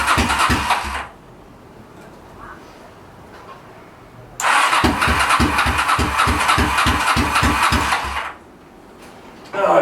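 A Honda VT700 motorcycle engine on a cheap bobber build starts in two bursts, each a loud, rapid, pulsing run that cuts out, with a brief cough between them and another firing at the end.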